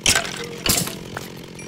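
A chainsaw in the Minecraft Tekkit Lite modpack gives two short, harsh buzzing bursts close up, separated by a brief lull.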